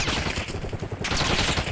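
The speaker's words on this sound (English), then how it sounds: "Incoming shots." Gunfire in a first-person shooter video game, dense rapid shots overlapping in a continuous burst, loud and close, with no talking.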